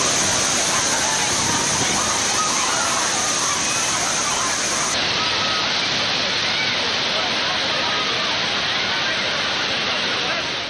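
The Thirparappu waterfall in Kanyakumari roars loudly and steadily, a dense wash of falling water that fills the whole scene without pause, while faint crowd voices from bathing tourists blend beneath it.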